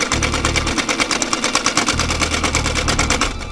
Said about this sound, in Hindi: उसे फिर से सिलाई मशीन की आवाज सुनाई